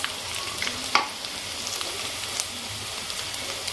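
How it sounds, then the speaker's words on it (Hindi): Chicken and potato bread rolls fry in hot oil with a steady, dense sizzle and a few sharper crackles, close and fairly loud. "ये देखिए हमारे रोल फ्राई हो गए हैं।"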